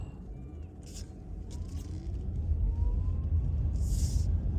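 Car cruising slowly around a suburban residential neighborhood near an elementary school, a steady low engine and road rumble heard from inside the vehicle that swells gradually, with brief hissy bursts.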